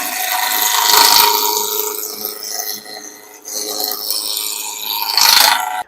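A wood lathe spinning at 1500 RPM as a tool turns a wooden blank into a cylinder. The scraping cut is loud and continuous, swelling and easing with the tool pressure.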